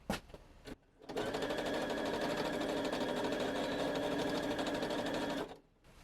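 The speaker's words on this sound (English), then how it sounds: "stitching a little bit, pulling it out, stitching a little bit, pulling it out" Sewing machine stitching a Christmas vest: a close, steady rapid mechanical whir running for about four seconds, with brief pauses before and after, and no talking.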